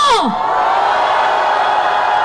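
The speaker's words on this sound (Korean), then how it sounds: "여러분 더 큰 함성을 보내주십시오" Large outdoor crowd at a political rally in Gwanghwamun, Seoul, roaring and cheering in a loud, sustained wash of voices after a brief sweeping whoop at the start.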